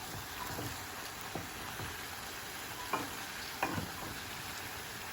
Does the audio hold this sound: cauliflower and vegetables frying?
yes